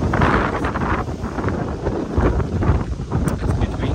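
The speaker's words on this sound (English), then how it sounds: "It's a bit windy." Wind buffets a microphone outdoors, a continuous low rumbling roar with gusty surges throughout, loud and close, with no clear speech over it.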